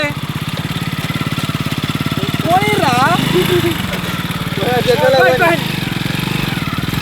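A homemade three-wheeled motorcycle, two wheels in front and one at the back, runs its engine with a steady close chugging putter, while people talk and shout loudly over it.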